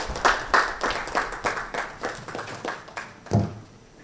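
Audience applause for a panelist at a nutrition and nutraceuticals panel discussion, a run of distinct claps with a few louder bursts, moderately close and fairly sparse, like a small seated crowd clapping for about four seconds.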